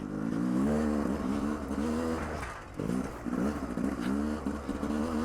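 A GasGas EC300 dirt bike is ridden, its engine droning loud and close and rising and falling as the throttle opens, eases briefly, then picks up again.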